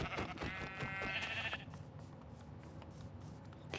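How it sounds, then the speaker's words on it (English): Sheep in the Minecraft video game bleat in a quick, wavering call near the start, followed by quieter, muffled game ambience with no talk. "Oh, there's the 2 sheep."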